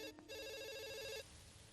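A telephone in a Telugu comedy film scene gives a brief electronic ringtone burst, a bright trilling tone lasting about a second over faint background noise.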